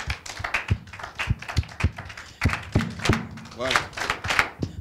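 Audience clapping in rhythm, irregular thumping hand claps repeating under an announcer's voice in a crowded hall.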